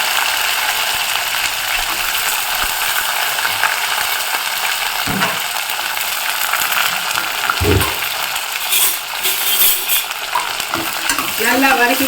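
Shallots, cumin and curry leaves sautéing in a pan give a loud, dense, crackling sizzle that runs the whole time, with occasional scraping knocks of a spoon being stirred, close up and without speech.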